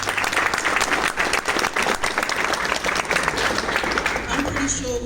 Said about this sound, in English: So I think we should clap for them for this.